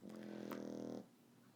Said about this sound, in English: These are some loud pug snores.